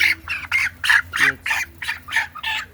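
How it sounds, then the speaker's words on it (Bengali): A chicken squawks loudly and repeatedly as it is grabbed, harsh rapid calls in a steady run of about eight bursts, close up, with a brief spoken word in the middle. "মুরগির সাউন্ডটা তোমরা বন্ধু শুনতে পাচ্ছ"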